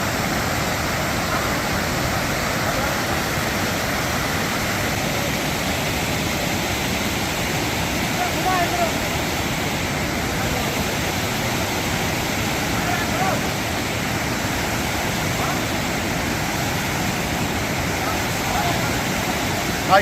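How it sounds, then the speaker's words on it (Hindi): Steady, dense roar of a waterfall pouring down nearby, unbroken and full for the whole stretch. "आवाज़ चेक करें आबशार की"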